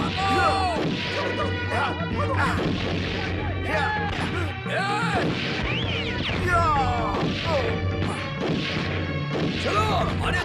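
Loud crashing bursts of gunfire ring out over a dense, chaotic film soundtrack, with shouting voices and music throughout.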